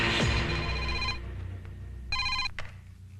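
A telephone rings in a Telugu action film scene, with two bursts of bright electronic ringing near the end of the clip over a background of music and room sound.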